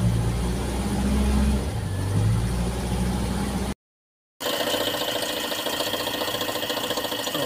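A car engine idles after a fuel filter replacement, a steady rumbling run that drops out briefly and returns with a rougher, busier texture.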